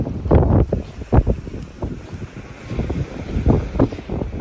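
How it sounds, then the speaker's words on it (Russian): Strong gusty wind on a sandy beach in Evpatoria buffets the microphone in heavy rumbling bursts, rising and falling irregularly with no voices. "Ветер такой сильный вообще. Просто сильнейший."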